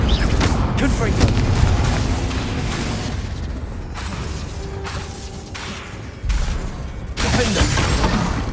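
Confringo fire-spell blasts in Hogwarts Legacy combat: loud, heavy booms and crackling bursts fill the whole stretch, with a fresh blast hitting near the end over continuous battle noise.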